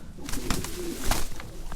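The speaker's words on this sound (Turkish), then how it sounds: "bütün kuşlar buraya gelmiş" Pigeons coo repeatedly close by, soft throaty calls layered over a busy background of flapping and shuffling birds.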